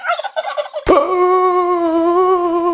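A turkey gobbles loudly and close, a rapid warbling burst that breaks into a sustained, strained call.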